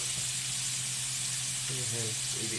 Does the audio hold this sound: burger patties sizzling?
yes